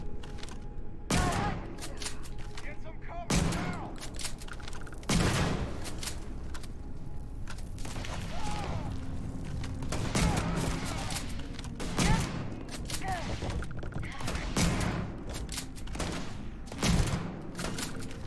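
Player's gun in Starfield firing single heavy shots at irregular intervals, roughly a dozen loud near cracks over steady ambient game noise.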